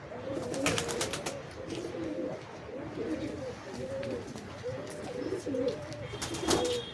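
Giribaz and Teddy pigeons coo in a string of low, rolling, throaty phrases close up, repeating every second or so over faint background noise, with a few sharp chirps near the end.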